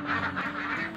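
Laying ducks in their pen quack in a quick run of several nasal calls, close and moderately loud over a low steady hum, with no talking.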